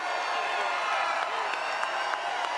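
A big crowd at a Donald Trump political rally in Florence, South Carolina cheers and shouts continuously, a loud mass of voices with scattered whoops and claps carrying on without a break.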